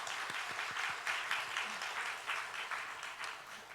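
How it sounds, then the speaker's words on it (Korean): Congregation in a Korean church sanctuary applauding to welcome a newly registered member during Sunday worship, a steady, moderately quiet wash of many hands clapping for several seconds. "우리 박수로 환영하겠습니다"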